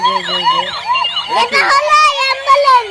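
A toy ambulance siren wails in a repeating rising-falling pattern, close and loud, with a voice chattering over it partway through.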